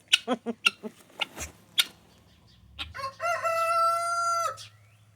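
A rooster crows once, loud and close, after a run of clucks and short squawks.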